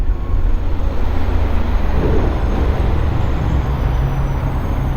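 Aprilia Tuareg 660 motorcycle braking hard while riding, steady loud wind buffeting and road rumble with engine drone that eases slightly, no voices.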